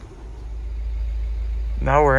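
A car engine idles with a steady low hum throughout, and a voice starts talking over it near the end.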